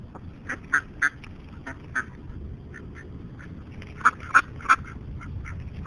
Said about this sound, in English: Look at all the ducks. They're all coming over here just because we're feeding them.